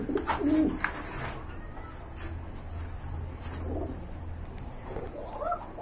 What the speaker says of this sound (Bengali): এখানে দেখতে পাচ্ছেন আরেক জোড়া রেসার কবুতর রয়েছে